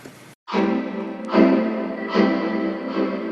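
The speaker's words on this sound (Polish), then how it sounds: "I halftime jest nic, niczym innym jak po prostu spowolnieniem" A sample slowed by a halftime effect plays in a heavy, loose, dragging rhythm, with a short burst of noise at the start before the low, stretched sound takes over.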